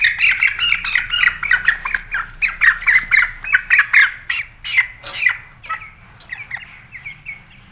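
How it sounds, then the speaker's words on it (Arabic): An 18-day-old broiler chick is picked up from a farm flock to be weighed and squawks in a rapid series of loud, shrill calls that gradually fade and space out near the end. "تعالوا بقى كده ناخد اي كتكوت من اللي واقف قدامنا ده"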